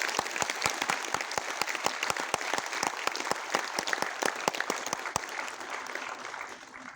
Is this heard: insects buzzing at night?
no